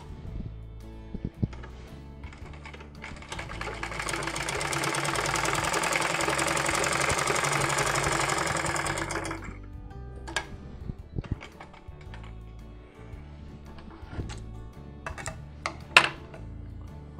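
A sewing machine with an upper-thread stitching fault runs a test seam in a steady whirring burst lasting several seconds, followed by scattered clicks and taps of handling.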